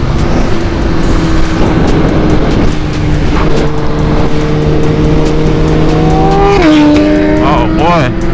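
A 2015 Suzuki Gixxer 1000 sport motorcycle rides with other bikes, its engine drone loud and steady before revving up in rising, wavering pitch. A voice talks over the engine noise.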